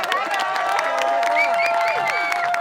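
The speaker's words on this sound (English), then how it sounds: "You heard this cheer for Rebecca all the way across the course" Crowd cheering for disc golfer Rebecca Cox at a women's pro disc golf tournament round, a sustained mass of voices and clapping under clear, near commentary-style talk with whistles and shouts.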